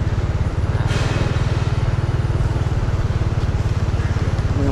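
Motorcycle engines running on a road outside a newly opened shopping mall in Davao City, a close, steady, pulsing engine drone that stays loud the whole time, with faint traffic noise behind it.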